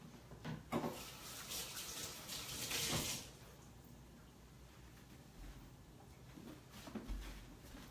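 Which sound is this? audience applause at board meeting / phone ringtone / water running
water running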